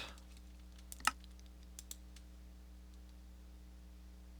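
Computer keyboard typing in Minecraft, a few sparse, quiet clicks over a low electrical hum, with one sharper keystroke standing out and a couple of lighter taps following.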